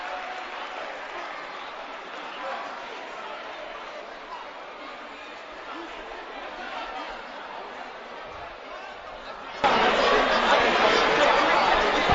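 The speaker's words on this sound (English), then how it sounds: "the fans here at Central State applaud him" Fans applaud at a Central State men's college basketball game against LeMoyne-Owen, crowd clapping and chatter rolling through the gym under a commentator's talk, then swelling abruptly louder near the end.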